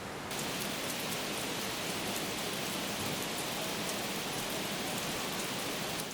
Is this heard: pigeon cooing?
no